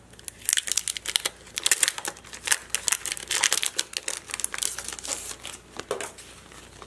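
A sticker sheet is pulled from its plastic packaging, giving close, crisp crinkling and rustling in irregular bursts that last throughout.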